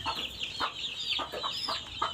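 Native country chickens clucking in a coop dusted with lime as disinfectant, a steady run of soft, close clucks and chirps repeating in a loose rhythm with no voices.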